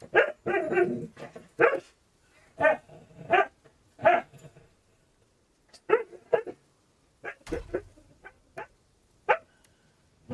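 A pet dog barking and yipping playfully, a dozen or so sharp close barks in irregular bursts separated by short silences, loud and alone.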